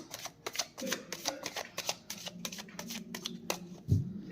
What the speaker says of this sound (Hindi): थोड़ा शफल करूँ कार्ड्स, मैं और कार्ड्स निकालती हूँ।